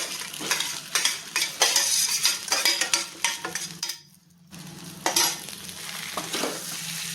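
Potatoes with masala frying in a pan, steady sizzling with repeated scraping stirs of a utensil against the pan, a brief lull partway, then stirring resumes, close and alone without talking.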